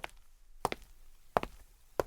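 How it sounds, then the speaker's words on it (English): Sparse, quiet thuds spaced about two-thirds of a second apart, like slow footsteps on a hard floor, with no voices. "That's the sound of the audience walking out on this movie."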